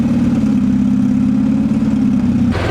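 A Honda Civic at a private track day idles steadily and loud after a bump start, its low engine drone holding even before cutting off sharply near the end.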